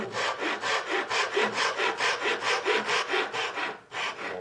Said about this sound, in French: la scie japonaise, elle travaille en tirant